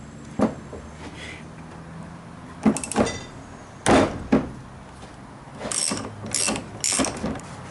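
A ratchet and a special socket loosen the oil pressure sender on a Chevy 5.3 Vortec LS engine, giving short bursts of close, loud ratcheting clicks between pauses, with a run of quicker ratchet strokes near the end and no voices.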